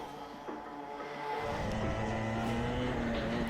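Racing karts in an endurance race on a circuit with a hairpin, engine drone rising steadily as a kart pulls out of a corner under acceleration, continuous and moderately loud with a passing-engine whine.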